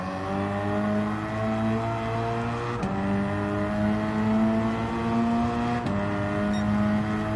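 A race car engine in the Gran Turismo 7 driving game drones at high, steady revs, broken by two quick gear-shift dips before climbing again, with no talking.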